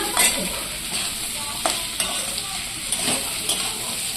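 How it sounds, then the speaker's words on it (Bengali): Chopped onion and potato fry in a pan with a steady sizzle, broken by occasional stirring scrapes and soft clinks of the utensil against the metal. "পেঁয়াজ কুচিটা দিয়ে আরেকটু ভালো করে ভেজে নেব।"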